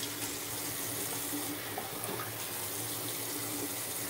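Water runs steadily from a tap during rinsing, a continuous hiss and splash with a faint low hum beneath, alone and fairly quiet.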